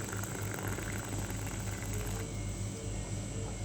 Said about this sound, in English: Boil your water.